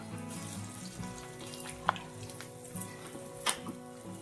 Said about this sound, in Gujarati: તો આપણે એને હવે તળી લઈએ, બધા અક્ષરને એના તળી લઈએ